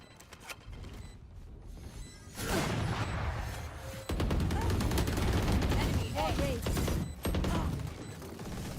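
Continuous, dense gunfire and mechanical clatter during a Valorant round, loud and busy throughout, with short electronic game cues and some speech mixed in.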